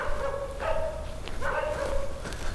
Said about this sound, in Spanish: Se oyen algunos perros cerca de nosotros.